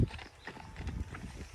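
A gaited horse's hooves strike the ground in a steady, even clip-clop rhythm of solid, close thuds, with no talking over them.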